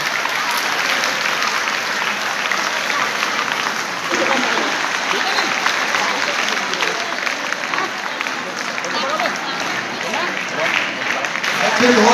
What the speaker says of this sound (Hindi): जलाते रहो ताली बजाते रहो।